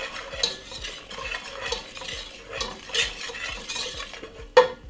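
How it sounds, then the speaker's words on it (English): A wooden spoon stirs flour into a roux in a pan. Close, rhythmic scraping strokes repeat about twice a second, and a sharper clack comes near the end. "Give it a nice lovely stir."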